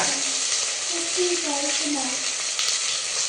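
Potatoes dropped into hot oil tempering in a pan, a loud continuous close sizzle and crackle filling the whole moment, with a faint voice underneath.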